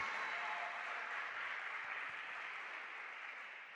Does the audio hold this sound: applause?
yes